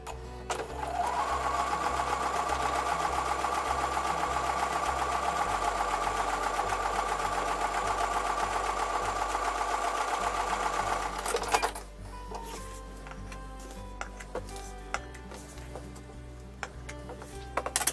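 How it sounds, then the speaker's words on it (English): Sewing machine stitching a quilt block for a Tiara Crown pattern, running at a steady fast whir with rapid needle clatter for about eleven seconds, then stopping, leaving quieter handling clicks and rustles. "I'm going to take those over to the sewing machine and sew on top of the line."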